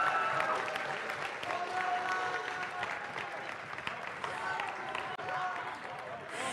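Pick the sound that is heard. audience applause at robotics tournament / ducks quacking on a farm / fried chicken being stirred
audience applause at robotics tournament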